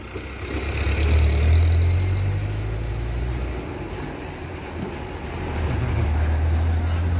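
A bus engine runs steadily on a narrow road, a deep rumbling hum that swells near the start and again toward the end.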